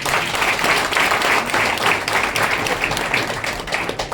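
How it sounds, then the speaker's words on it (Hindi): Samajwadi Party workers at a gathering in Mumbai applaud in a sustained, dense burst of clapping that stays loud and steady from start to finish. "सबसे पहले मैं यूसुफ भाई के लिए तालियां बजवाना चाहता हूं।"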